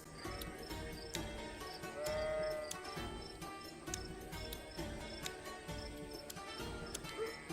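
Sheep bleat in a rural outdoor scene from a Hindi short drama, with one clear drawn-out bleat standing out. Scattered clicks and knocks run through a busy background.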